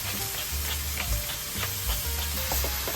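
Pounded Chaliapin steak seasoned with salt and black pepper sears in a pan, giving a steady, close, dense sizzle with faint stirring and scraping underneath, no voices.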